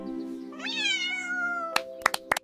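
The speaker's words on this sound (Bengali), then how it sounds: "Mu mu." A cartoon cat gives one rising, drawn-out meow. A few sharp clicks follow near the end, and no one speaks.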